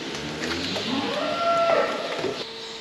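A dairy cow with a sore, inflamed hoof gives one long, fairly loud moo that rises and falls, close by against steady barn background noise.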